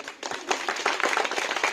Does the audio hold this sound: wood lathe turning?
no